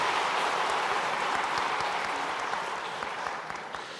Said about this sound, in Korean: 모든 분들 격려하며 박수하겠습니다